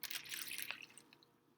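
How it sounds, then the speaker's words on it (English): A brief trickle of 50 milliliters of water splashing into a plastic bag, with faint dripping afterward, close by and quiet. "pour 50 milliliters of water"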